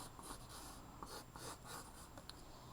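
A pencil sketches a rough egg-shaped head outline on paper, giving a close, continuous scratchy rasp of quick repeated strokes with no voices.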